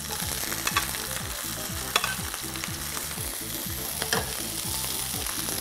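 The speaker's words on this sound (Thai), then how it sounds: "กระทะผมร้อนแล้วครับผมก็จะเอาหอยลงทอด" Scallops sizzle and crackle steadily in oil in a hot pan, loud and close, with occasional scrapes of stirring and a rhythmic low thumping underneath.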